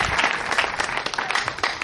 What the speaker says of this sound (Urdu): اور زیادہ تالیاں